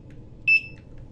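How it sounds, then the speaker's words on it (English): A single short, high electronic beep from a barcode scanner reading a W-2 form, clean and alone over faint low background hum. "you'll hear a beep"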